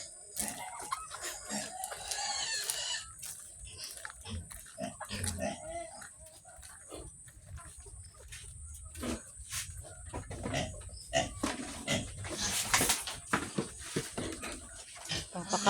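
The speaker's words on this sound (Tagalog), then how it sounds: "Yung mga baboy na laging gutom, parang hindi pinapakain." Hungry pigs on a farm before feeding grunt and squeal in a busy, overlapping chorus, with chickens and a dog also audible nearby and faint voices in the background.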